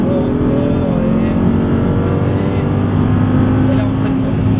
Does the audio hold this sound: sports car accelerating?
yes